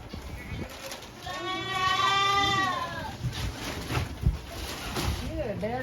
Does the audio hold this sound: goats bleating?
yes